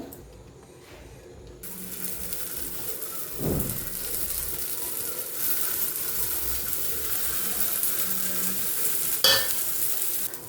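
A rajma and beetroot mixture cooks in ghee on a tawa over a low flame, giving a steady faint sizzle and crackle, with a brief scrape and a sharp clink partway through.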